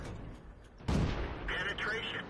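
A tank cannon fires once in World of Tanks as a loud, sharp boom, followed by a mechanical whine, all over a low engine rumble.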